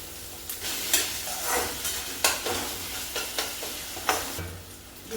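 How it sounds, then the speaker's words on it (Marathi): Onion and tomato fry in a pan with a steady crackling sizzle, broken by sharp scraping knocks as a spoon stirs them every second or so, close and fairly loud, with no talking. "जिथं कांदा छान असा तळला त्याच्यामध्ये टमाटो पण टाकून घेते"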